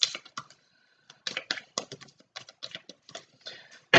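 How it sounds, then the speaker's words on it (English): Tarot cards are drawn and shuffled by hand, giving quiet, irregular papery flicks, slaps and taps in short close bursts separated by brief pauses. "So just let me get a few more tarot cards here for Aquarius, please."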